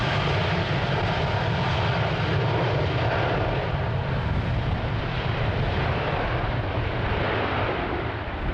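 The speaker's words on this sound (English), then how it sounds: "a Boeing 737 taxied in front of us and is going to take off with a rolling start" A Boeing 737 roars steadily as it makes a rolling-start takeoff run at Amsterdam Schiphol on a windy day, a broad, dense engine rumble that fills the air without pause.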